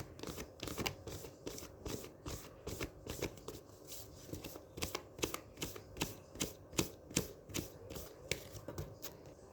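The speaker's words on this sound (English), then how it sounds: "I am shuffling your cards for the month of May Scorpio." Tarot cards shuffled by hand, a long run of crisp riffling bursts in a steady, uneven rhythm, close and fairly quiet, with no talking.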